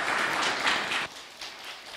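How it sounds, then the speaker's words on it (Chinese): A church congregation breaks into applause, a dense wash of clapping that swells, drops off abruptly around the middle, then picks back up more softly, heard from within the room. "我们先把这个掌声归荣耀给耶稣先"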